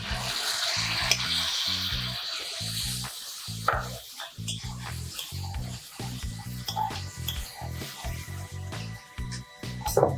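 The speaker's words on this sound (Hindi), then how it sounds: "अब इसमें जो दाल मैंने बनाई थी वो डाल दे रही हूँ।" Cooked dal poured into frying masala for misal paav gravy and stirred, with soft rhythmic scraping and gentle sizzling, fairly quiet and close.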